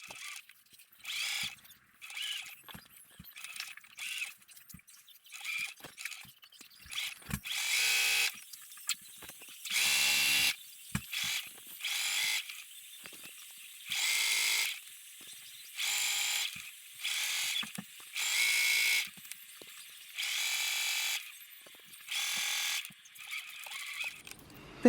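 Close up, a sewing machine sews the 5/8-inch side seam of a Cielo dress in repeated short bursts of whirring separated by brief pauses, with no voices.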